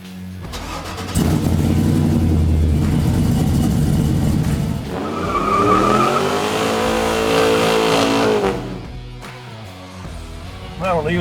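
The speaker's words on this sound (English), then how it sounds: "we're leaving the shop in the 72 short wide pickup. First time to drive it." A classic 1972 short wide pickup truck on a custom chassis starts and pulls away from a shop, its engine rumbling loudly and then rising in pitch as it accelerates before fading slightly at the end.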